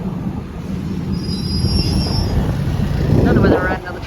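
A train on Thailand's Maeklong railway rolls along with a steady rumble while its wheels squeal in thin, high metallic whines, loud and close, with wind buffeting the microphone.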